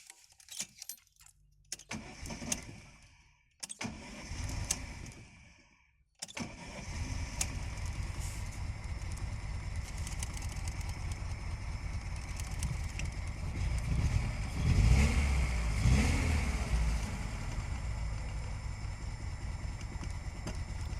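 Keys rattle and a starter cranks before an old carbureted VAZ engine catches and settles into a steady, rough idle close by.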